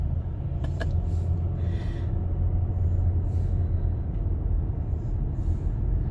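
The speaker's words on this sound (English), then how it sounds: "Very slow moving truck there." A truck rolls slowly along a main street in Sydney's coastal suburbs, a continuous low engine rumble dominating throughout, with a few faint higher hisses and clicks above it.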